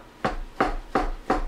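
A knife dices tomatoes for concassé on a cutting board, making four evenly spaced, crisp chopping thuds close by with no talk.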